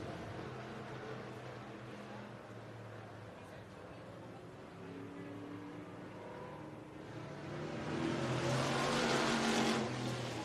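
Warrior race cars roar around the El Paso County Raceway track, a continuous engine drone heard from a distance that swells louder as cars pass near the end.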